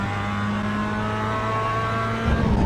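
Mazda race car engine in the iRacing sim at WeatherTech Raceway Laguna Seca during a qualifying lap, a steady loud droning engine note with layered harmonics that swells slightly near the end, without speech.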